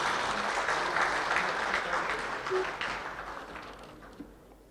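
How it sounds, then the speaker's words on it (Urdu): Audience applause at an international Urdu poetry mushaira in Bahrain, a sustained round of clapping from a seated crowd that holds steady, then gradually thins and fades toward the end. "زوردار تالیوں سے ان کا استقبال کیجیے"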